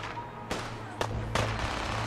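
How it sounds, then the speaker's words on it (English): Gunfire in the video game Fallout 4's Nuka-World, with three sharp reports at about half-second intervals over a steady low background drone, with no talk. "I hear a lot of gunfire, but I don't see anyone"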